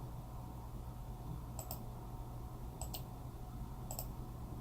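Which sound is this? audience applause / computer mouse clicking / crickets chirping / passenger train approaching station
computer mouse clicking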